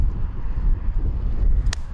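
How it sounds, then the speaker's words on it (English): Strong wind buffets the microphone beside Highway 50 near a tiny desert town with tumbleweeds, a steady low rumbling roar that fills the whole stretch, with a brief hissing flutter near the end. "it is just too damn windy"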